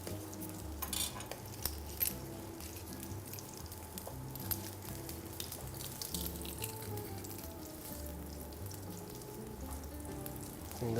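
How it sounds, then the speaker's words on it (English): A garlic clove sears in a small amount of oil in a pan, a soft steady sizzle with faint clinks of utensils against the pan, under low background music with no talking. "I'm going to add a little bit oil here, just a little bit, not too much, to sear the garlic."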